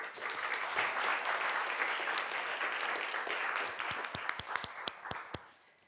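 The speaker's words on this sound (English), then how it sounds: "please give him a warm round of applause" An audience at a panel discussion on civic space gives a warm round of applause, a full wash of clapping that thins out into a few scattered final claps before dying away, heard at a moderate distance.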